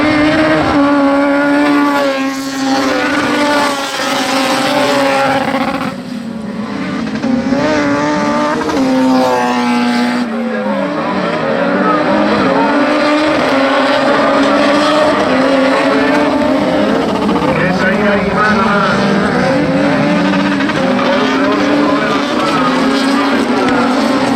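Junior kartcross race cars roar past at an autocross event, their engines revving and whining loudly and steadily with shifting pitch throughout, under a race commentator's voice.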